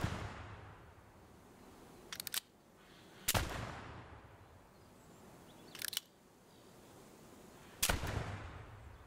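Four sharp gunshots from a firearm in Gunsmith Simulator crack out at irregular intervals over a quiet room-tone background, each loud and abrupt with a short decay.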